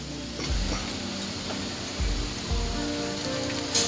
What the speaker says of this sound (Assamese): ভালকৈ মছলাখিনি তেলত ভাজি ল'ম। যেতিয়ালৈকে আদা আৰু নহৰুৰ গোন্ধটো যায়গৈ তেতিয়ালৈকে ভাজি লৈছোঁ ভালকৈ।